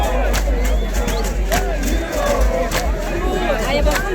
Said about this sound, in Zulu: Ihlombe lakhona manje liyaphambana cala na